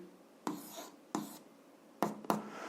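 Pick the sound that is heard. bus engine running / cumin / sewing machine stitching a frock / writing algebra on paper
writing algebra on paper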